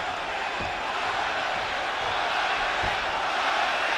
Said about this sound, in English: Crowd is lively. Arena seems pretty close to full.